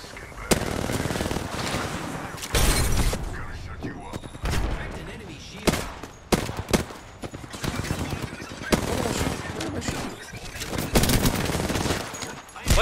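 Rapid automatic gunfire from an Apex Legends match, loud and sustained with bursts of shots and short pauses. Players talk excitedly underneath.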